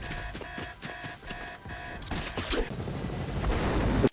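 A minigun in Fortnite rattles in quick bursts, then swells into a continuous loud roar of heavy automatic fire with booming impacts.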